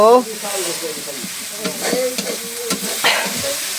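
Chicken curry being stirred and fried in a pan, with a steady sizzle broken by scraping stirs of the spoon against the pan, up close, with faint talk in the background.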